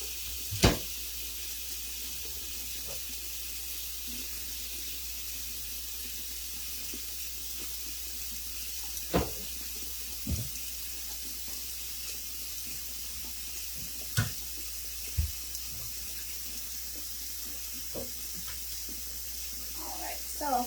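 A sink fills with warm water from a running tap, a steady low rush with a few sharp clinks and knocks scattered over it, for handwashing a vintage wedding dress.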